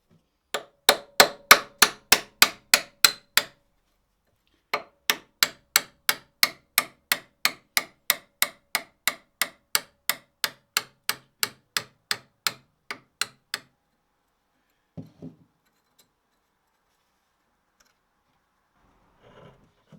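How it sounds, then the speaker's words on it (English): A hammer strikes a pin through an extension bar during a 2165cc engine swap on a MK1 Renault Trafic 2.2: sharp metallic blows in fast, even bursts with brief pauses between, then a few final taps. "With that extension, I can now get a decent hit from the hammer."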